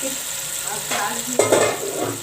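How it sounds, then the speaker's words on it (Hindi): Beef pieces added to onions frying in hot oil in a pan, giving a loud, steady close sizzle that surges as the meat goes in and is stirred. "अब हम इसमें जो है वो गोश्त शामिल करेंगे और गोश्त को प्याज"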